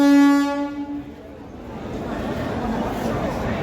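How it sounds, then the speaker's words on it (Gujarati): A train pulling into Rajkot station sounds a loud horn blast, then a low, rising rumble of rolling wheels and carriages as it approaches, while people on the platform talk. "ટ્રેન આવી ગઈ"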